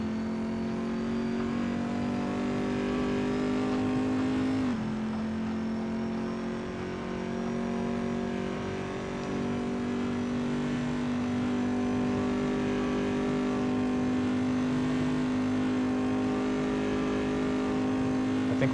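Race car engines roar in a VR racing video game, a steady loud droning whine that dips briefly as the car shifts then holds high, with several cars running together and no talk.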